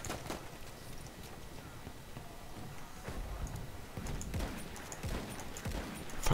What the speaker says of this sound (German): ein anderes Pferd